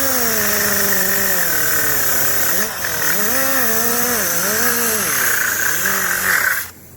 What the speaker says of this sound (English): we pretty much got an angle grinder and just kind of used it on low speed